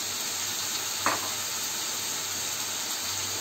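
Chopped tomato goes into a hot pan for a rohu fish curry, bringing a soft crackling sizzle with a brief stirring scrape just after it lands, then a quiet, even frying hiss.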